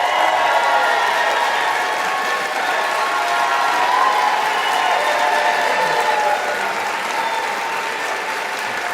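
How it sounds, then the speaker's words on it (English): Sustained, loud applause and cheering from a large audience at a political event announcing California's electoral votes, steady throughout with a dense wash of clapping and crowd noise. "That's why they're clapping."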